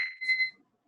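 A kitchen timer for toasting hazelnuts goes off during a cooking demonstration at a winery, a single short, bright electronic beep tone that sounds briefly and clearly, then falls silent.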